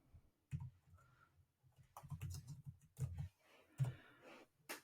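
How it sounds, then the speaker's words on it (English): Quiet, uneven tapping of keys on a computer keyboard, a short run of soft clicks and a few louder strokes, heard alone. "if you go to the search bar and if you type in Microsoft Designer"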